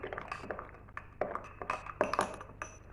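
A spoon stirring dry baker's yeast and a heaped teaspoon of sugar into warm water in a bowl, giving quick, light clinks and taps in an irregular rhythm, close and fairly quiet.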